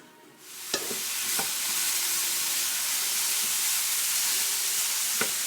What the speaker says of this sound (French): Je suis en train de faire revenir mes morceaux d'aubergine à l'huile d'olive.